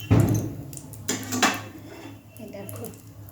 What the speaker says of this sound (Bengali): এই যে দেখো এবারে তরকারিটা ঢেলে দিয়ে দেবো।